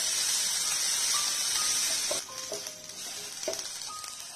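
Onions sizzling in hot oil for egg tawa masala, a steady close frying hiss that softens midway as stirring clatters and scrapes of a utensil come through.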